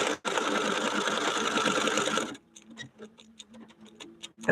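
A sewing machine runs steadily, stitching a Mylar-accented matrimony wedding quilt block in gray thread, a loud continuous whir that then stops, leaving scattered ticks and clicks of the machine.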